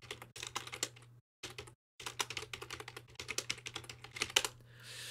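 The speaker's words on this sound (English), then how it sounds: "I'm just really bad at typing" Rapid, uneven clatter of keys on a computer keyboard, close and fairly loud, typed in bursts with a couple of short pauses, over a faint steady hum.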